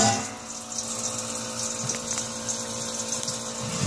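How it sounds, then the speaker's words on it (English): An electric pump circulates hot brewing mash through a RIMS on a homebrew mash station, giving a steady close liquid hum and churn that holds even throughout with no talk. "Now we're pumping it into from here through the pump, through my rims"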